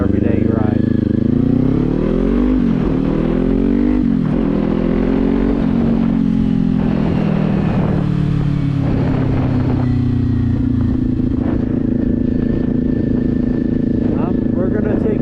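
Motorcycle engine running while riding toward town, a steady close rumble with wavering pitch as the rider shifts and changes speed, with someone talking over it throughout.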